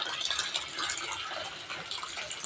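Tap water runs steadily from a faucet for hand washing, a close, continuous splashing hiss.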